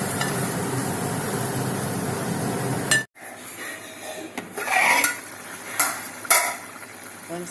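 A drumstick, tomato and prawn curry is stirred in a pan. A dense hiss runs for about three seconds, then a brief hush, followed by scattered spoon scrapes and metallic clinks against the pan.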